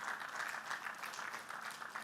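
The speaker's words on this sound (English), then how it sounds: "Good place to clap." Audience at a citizens' town hall meeting claps steadily, a dense, even patter of many hands that keeps going throughout at a fairly loud level.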